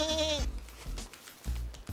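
A person imitates a little goat's bleat: a quavering, wavering bleat at the start, then a few short, lower vocal bursts, close and fairly loud.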